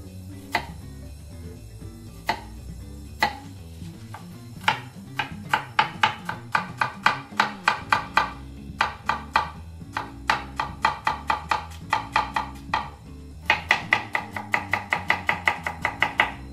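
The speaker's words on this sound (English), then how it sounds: "we need to clean the onion. And then we need to cut it very, very thinly" A knife slices an onion very thinly on a cutting board, giving a long run of crisp, close chopping taps that speed into quick, regular bursts toward the end, with no talking.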